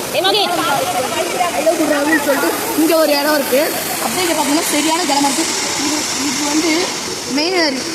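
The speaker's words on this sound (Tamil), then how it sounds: "இது வந்து மெயின் அருவி." Steady broadband rush of the main waterfall at Courtallam, a constant roar that runs beneath someone talking nearby throughout.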